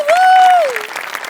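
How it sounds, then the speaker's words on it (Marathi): Audience applause for a performer on a comedy stage show, dense clapping from a crowd overlaid by a sustained sliding musical tone that fades out, the clapping thinning toward the end. "अभिनंदन आणि टाळ्या सुनील डांगेसाठी."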